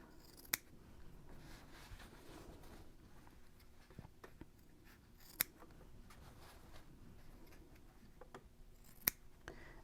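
Scissors snip the corners of a sewn fabric popcorn bag diagonally, giving a few sharp, isolated clicks spaced several seconds apart over a quiet, faintly hissing room.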